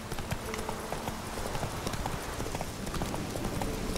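Horse hooves clip-clop at a steady trot in The Witcher 3, a rapid even rhythm of close hoofbeats running throughout.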